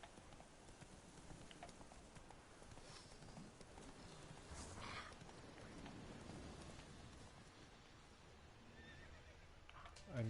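Roach the horse in The Witcher 3 whinnies and gallops with steady clip-clop hoofbeats over a rainy, windy game soundscape, mid-level and continuous throughout.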